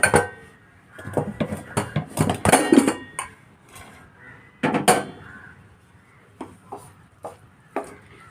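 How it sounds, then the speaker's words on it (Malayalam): A pressure cooker, used for cooking raw jackfruit, is handled and opened with a cluster of loud metallic clanks and knocks, then a few scattered lighter clinks. "കുക്കർ തുറന്ന് നോക്കാം"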